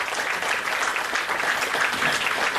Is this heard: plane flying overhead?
no